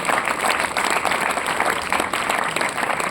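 A room of students at a math quiz competition gives sustained applause, a thick even roar of many hands clapping steadily for several seconds without speech.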